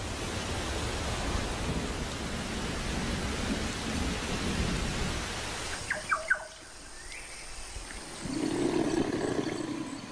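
Steady heavy rain hisses throughout, with a low rumble of thunder rolling underneath and a few brief squeaks partway through.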